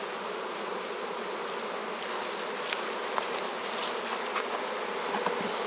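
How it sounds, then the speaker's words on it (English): Dense, continuous buzzing of many honeybees during a honey harvest at a bee farm, a steady close swarm drone with occasional louder individual bees passing near, and no talk. "I wonder if the audio is picking up all this buzzing."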